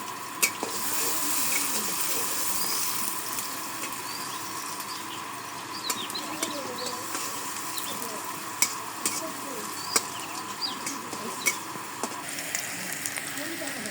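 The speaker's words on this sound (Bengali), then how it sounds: "আলু ভাজি দিয়ে দিই। নাড়াচাড়া দিয়ে দিই, সব কিছু দিয়ে দিচ্ছি।" Potatoes with chopped onion and chili fry and sizzle in oil in a pan in a village kitchen, a steady hiss broken by scattered stirring clinks and scrapes.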